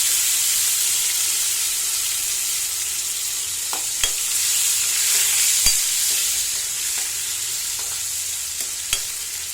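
Tomatoes fry with golden-browned onions in oil, a loud, continuous hissing sizzle with a few sharp spoon clicks against the pan, close and alone, while a dry fish gravy is being cooked.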